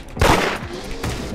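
Roblox video game gunfire: a loud burst of rapid shots right up close, a short pause, then another quick report, with no talking.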